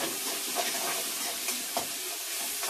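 Onions and tomatoes sizzle steadily in a pan for Tamil fish curry (meen kulambu), a close, continuous hissing fry with faint stirring pops and no voices.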